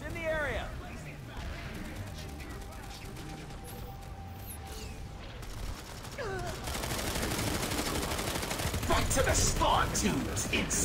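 Planetside 2 combat: rapid bursts of automatic gunfire and grenade blasts, growing louder and denser toward the end, with a person talking over the battle.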